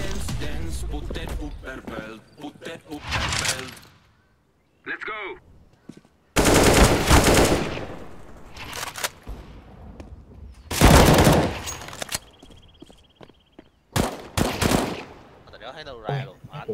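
Gunfire on the de_inferno map in Counter-Strike: loud bursts of automatic fire and single shots come in clusters, with quieter gaps and some talk between them.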